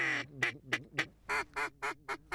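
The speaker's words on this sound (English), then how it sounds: "The ducks are kind of coming from the right and the left, and some of them are even coming from that way." Ducks flying in over the prairie quack in a rapid series of about nine loud, nasal calls, close and clear with no talk; the calls speed up into an even rhythm toward the end.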